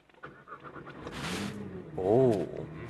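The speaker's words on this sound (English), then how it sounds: "start the engine. Wow, start your engine, GTR." A Nissan GT-R engine starts up at the Nissan headquarters in Yokohama: a starter whir and catch, then a rising mid-pitched rev that settles into a steady idle, with no talk over it.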